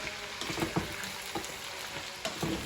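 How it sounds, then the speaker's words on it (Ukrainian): Shredded cabbage sizzles in a nonstick pan while a utensil stirs it, giving a steady frying hiss broken by several scraping strokes. "Так, кинула вже я і капусточку. Все це тепер теж перемішую."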